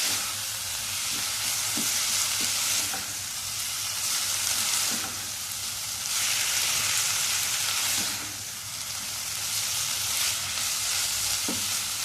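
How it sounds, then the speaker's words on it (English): Onions with cinnamon and bay leaf fry in a pot with a constant sizzle that swells and fades in slow waves as they are stirred, with occasional light knocks. "Give that a quick stir."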